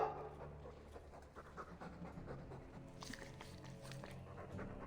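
A Mabari war dog in Dragon Age 2 pants steadily and rhythmically, close and quiet, with a soft whimper and faint background ambience.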